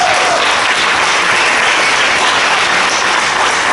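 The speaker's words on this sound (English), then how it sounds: "Give him a good applause" Audience at a festival forum applauding, a loud, close, continuous roar of clapping that stays level from start to finish.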